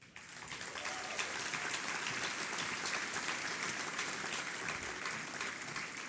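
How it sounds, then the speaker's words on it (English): A business luncheon crowd applauds the developers and developments of the year, a full, continuous roar of clapping that swells at the start and holds steady throughout with no talk over it. "Another round of applause for the developers and developments of the year"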